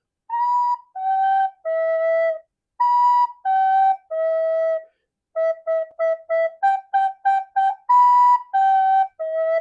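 A recorder plays the Hot Cross Buns melody from a limited set of pentatonic notes. It gives three sustained descending notes twice, then a quick run of short repeated notes, and closes on the falling phrase. The tone is clear and near.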